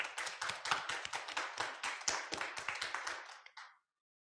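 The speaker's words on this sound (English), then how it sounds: "So a quick applause to our judges today." A small audience at a university research day gives the judges brief applause: a short burst of distinct, fairly quiet hand claps that thins out and stops abruptly.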